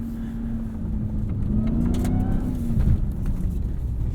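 A 2021 Ram 1500 TRX in Baja mode driving offroad on sand dunes, its engine droning loud and close with a rising rev midway, steady road and wind roar underneath.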